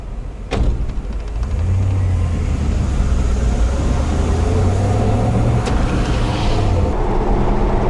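A 1990 Dodge W150 Power Ram truck engine runs steadily and loud throughout, a continuous low rumble with a faint click near the start and another brief knock later, no talking over it.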